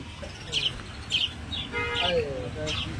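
Several short, high bird chirps repeat at irregular intervals over a busy background of murmuring voices at an exotic bird market in Garia, Kolkata.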